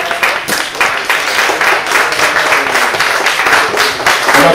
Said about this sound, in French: On applaudit même avant que vous finissiez.